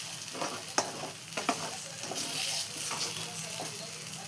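Besan batter being stirred with a little water in a pan: soft repeated scraping and mixing strokes over a faint sizzle, fairly quiet and close, with no other sounds prominent.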